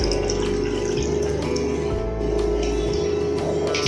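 A cup of water pours onto sugar in a pan for syrup, making a continuous, fairly loud splashing flow with a low hum underneath, steady throughout with no voices.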